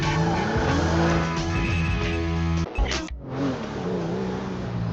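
A car in the video game GTA drives with a loud, droning engine, then briefly skids with a tire squeal before the engine carries on.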